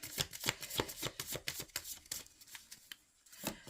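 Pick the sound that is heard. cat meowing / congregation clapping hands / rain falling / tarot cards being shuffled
tarot cards being shuffled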